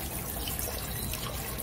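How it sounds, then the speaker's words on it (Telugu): Water poured into a pressure cooker sitting on a lit stove, a steady close trickling splash running evenly throughout without pause. "స్టవ్ ఆన్ చేసేసి దీంట్లో వాటర్ వేసుకున్నాం"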